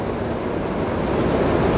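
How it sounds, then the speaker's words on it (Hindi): Water at Haluvagilu Waterfall in Hassan, Karnataka rushes in a steady, loud, broadband roar that fills the whole clip with no voices. "पानी का भी एक साउंड है, आप महसूस करो और भी अच्छा लगेगा आपको।"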